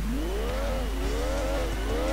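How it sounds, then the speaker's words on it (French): A car engine in the racing video game Gran Turismo 2 revs in repeated rising and falling sweeps, loud and steady across the whole stretch with no talk over it. "Déjà, elle fait un bruit de Formule 1 la machine."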